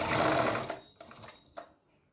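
A sewing machine runs in a loud continuous burst stitching a readymade patchwork neckline onto a garment, then slows into a few short, quieter runs and stops.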